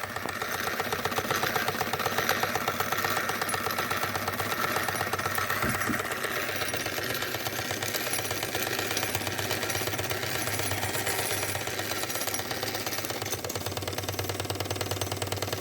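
Wilesco D409 model showman's steam engine running steadily, with a fast, continuous mechanical chatter and clatter close by.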